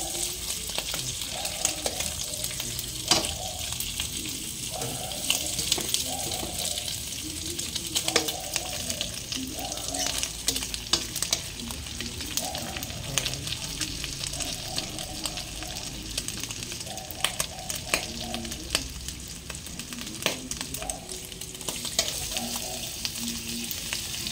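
Food fries in hot oil in a pan, a steady close sizzle with crackling spatters, plus a recurring rhythmic scraping or stirring pattern throughout, no voices.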